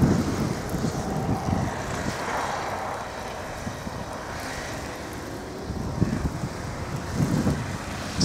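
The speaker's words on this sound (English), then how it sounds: "It's a blizzard, folks." Blizzard wind during a snowstorm in Alpena, Michigan, a steady broadband roar with rumbling gusts and microphone buffeting, and a faint engine-like drone underneath.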